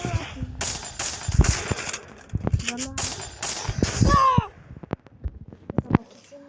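Gunfire in a shooting video game, sharp shots and short rapid bursts up close, with people talking and calling out over them.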